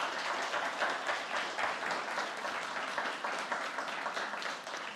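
A hall full of people applauds steadily at a school awards ceremony, a dense wash of clapping that holds at an even level throughout.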